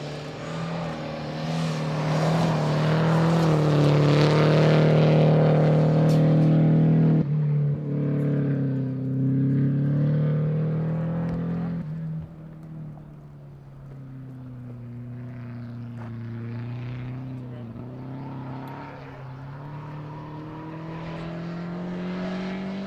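A rally car on the 2012 Olympus Rally super special stage drones loudly nearby with a strong engine tone, shifting pitch as it changes gears and pulls away, then fades into a steadier, more distant hum.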